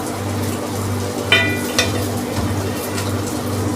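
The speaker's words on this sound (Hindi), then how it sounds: "अब चावलों को अच्छे से मिक्स करेंगे" A spoon mixes steamed cooked rice for palak gosht biryani in a pot, with two soft metallic clinks and quiet scraping over a low kitchen hum.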